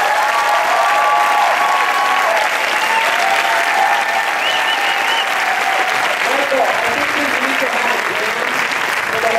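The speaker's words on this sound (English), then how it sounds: "let's give Sharon a huge round of applause" Sustained, loud audience applause at a dance event awards gathering, a continuous dense roar of clapping filling the whole stretch without pause.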